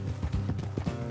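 Horse hooves clip-clop in a steady trotting rhythm in the video game Red Dead Redemption II, close and fairly loud, with no talking.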